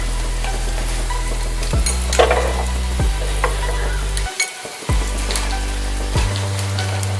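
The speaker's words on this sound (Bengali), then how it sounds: "আর একটুখানি সময় নিয়ে আমি ভাজছি।" Mughlai paratha frying in a pan over low heat, with a steady oily sizzle broken by spatula scrapes and a few short pauses as it is turned, close and without talk.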